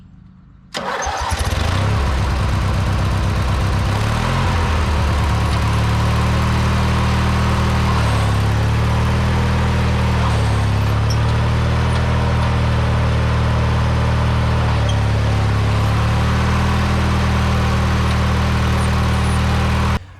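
An 18HP MTD Yard Man riding mower engine cranks and catches, then runs loudly and unevenly at a steady idle on only two cylinders, with a slightly lumpy, uneven beat throughout.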